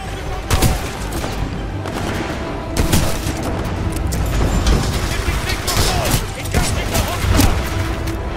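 Sharp, heavy Mastiff shotgun blasts from Titanfall 2 ring out repeatedly at irregular intervals amid other gunfire and explosions, loud and close, with voices shouting underneath.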